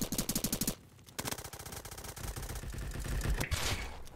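Rapid automatic bursts from a gun in a first-person shooter game, several quick strings of shots with short gaps, then a longer, denser stretch of fire, loud and close.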